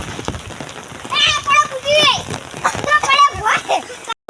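Monsoon rain falls steadily outdoors as a soft hiss under lively, high-pitched children's voices that chatter and call out through most of the stretch, before a brief drop-out at the end.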